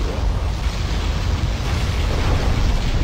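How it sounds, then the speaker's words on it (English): A loud, sustained roaring blast of a particle cannon firing in Command and Conquer Generals Zero Hour, rumbling and hissing without a break for a few seconds. "Particle cannon activated."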